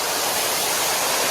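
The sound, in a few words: Cedar Falls waterfall at Hocking Hills State Park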